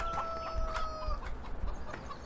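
Chickens in the farming video game Farming Simulator 2013 cluck softly around their nests, several brief repeated clucks over a quiet steady background tone.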